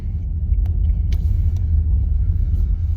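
Steady low engine rumble and road noise inside a car crawling through traffic jams, continuous and fairly loud with a few faint high clicks, no voices.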